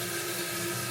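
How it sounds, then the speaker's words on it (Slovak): Tap water rushes steadily into a pot for chicken soup made from chicken backs, a brief close and fairly loud gush with no talking. "Čiže mám to zaliať vodou a dať to váriť"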